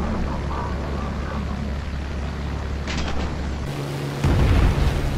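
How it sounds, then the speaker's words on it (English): A Hispano cannon fires from an aircraft in a tier III War Thunder air battle. A steady engine drone runs throughout, broken near the end by a loud, rapid burst of booming cannon fire. "with the Hispano cannon, you just gotta touch the plane and you're gonna have flames"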